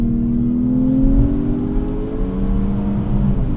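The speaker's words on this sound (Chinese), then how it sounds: "它完全跟发动机的真实声音是同步的" A Changan Oshan X5 engine revs after a manual downshift, a loud, close mid-pitched drone that rises and holds over a few seconds, with no talk.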